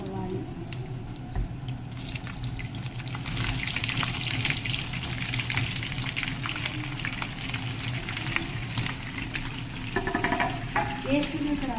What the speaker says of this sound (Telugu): ఎండుమిర్చి ఇలా వచ్చిన తర్వాత మనము సన్నగా తరుక్కున్న ఉల్లిపాయలు వేసుకోవాలి